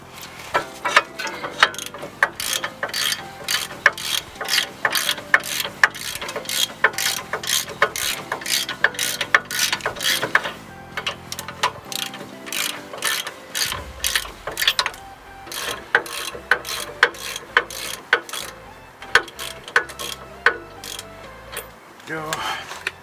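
Ratchet wrench working the front brake caliper bracket bolts on a Nissan Xterra, a steady run of close, sharp clicking pawl strokes in quick bursts, with a brief pause partway through before the ratcheting resumes.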